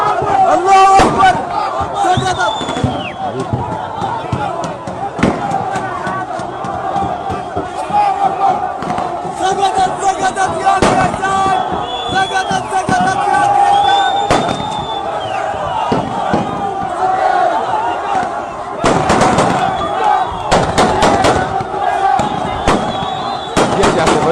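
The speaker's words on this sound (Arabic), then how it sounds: "الجيش يطلق رصاص بجانب انتصاره واستيلاءه على زرع القيادة" Celebratory gunfire from soldiers and revolutionaries marking victory in Khartoum, Sudan: repeated sharp bursts and cracks, some in dense clusters, mixed with loud crowd cheering and shouting throughout.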